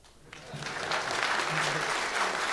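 Conference audience clapping for a talk on building an 802.11ac Wi-Fi monitoring hacker gadget, the applause starting abruptly and swelling into steady, full clapping that holds to the end, with a faint low murmur underneath.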